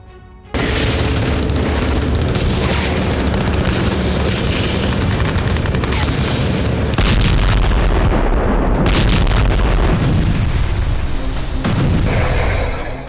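Explosions from US airstrikes on Houthi targets: continuous loud, heavy rumbling blasts and booms that fill the whole stretch, with a stronger surge of deep roaring partway through.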